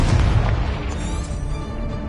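A Confringo spell exploding in the video game Hogwarts Legacy: a loud, close, deep boom at the start that decays into a rumbling tail, with no speech.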